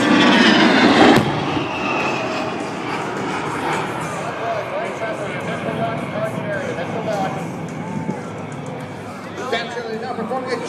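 An A-10 Warthog jet flying at the Abbotsford, B.C. airshow, a steady broadband engine roar heard at a distance beneath an announcer's voice on the public address and crowd chatter.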